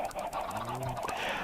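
Chickens cluck in a Minecraft world running the FTB mod pack, several birds close together producing short, busy, overlapping calls that continue steadily and fairly loud throughout.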